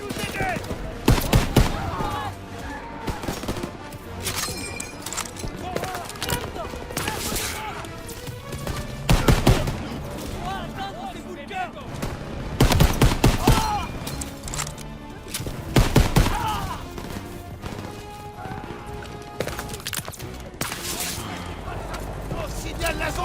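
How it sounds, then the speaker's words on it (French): Machine-gun fire in a WW2 video game campaign comes in repeated loud bursts over a dense battlefield backdrop, with voices speaking throughout. "Impossible d'avancer si les mitrailleuses tirent sur notre position!"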